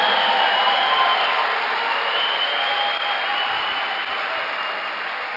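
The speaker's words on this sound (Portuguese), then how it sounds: "Então dá um aplauso bem forte ao Senhor" A church congregation applauds during a Sunday worship service, a steady, dense wash of clapping that fills the room from start to finish without a break.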